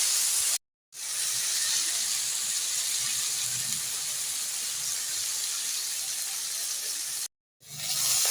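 Water is poured into a pan of ground masala paste seasoned with salt, sugar and chilli powder, a steady hissing pour lasting several seconds with two brief breaks, close and alone.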